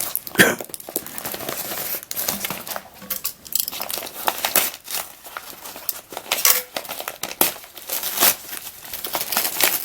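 A parcel from Hungary holding a boxed Gigaminx puzzle being opened: close, busy crinkling and tearing of plastic packaging with sharp rustling bursts and small clinks, continuous and irregular throughout, with no voices.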